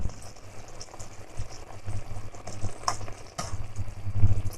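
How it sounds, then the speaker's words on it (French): Liquid bubbles and simmers in a pot of endive confit, a steady broadband churn of close bubbling with low rumbling surges, alone and fairly loud throughout. "Est-ce que tu entends le bouillonnement là?"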